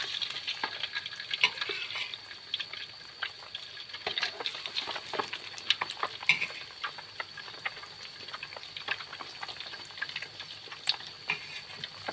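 Century eggs fry in a pan for Thai stir-fried holy basil with century egg, giving a steady close crackle and sizzle with scattered stirring scrapes and spatula taps throughout.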